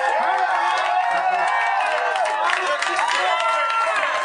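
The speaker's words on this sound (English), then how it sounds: "They're cheering over nothing." Crowd cheering and shouting from a live comedy podcast audience, a dense, steady roar of many voices held at a constant level from start to end with no pauses.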